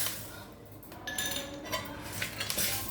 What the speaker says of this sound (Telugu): ఇప్పుడు మిరియాలు ఇప్పుడు లవంగం ఇవి సువాసన రావాలండి అలా వేయించాలి